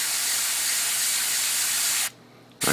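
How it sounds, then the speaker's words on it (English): An airbrush sprays paint in a steady, loud hiss for about two seconds, cuts off briefly, then bursts back on, used while painting a Gundam model kit. "This airbrush is good. The only problem is something gets stuck in here, so you gotta pull it up a bit."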